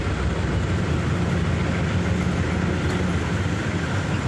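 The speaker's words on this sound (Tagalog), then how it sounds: "MRT ng Trinoma tayo." An MRT train at Trinoma station gives a steady, loud, low rumble throughout, with no talking.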